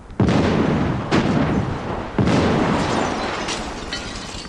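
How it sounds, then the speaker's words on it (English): Film special-effects explosion at a remote gas station, three loud booming blasts in quick succession, each with a roaring rumble that decays slowly, close and without speech. "The explosion will be on the screen for just 10 seconds"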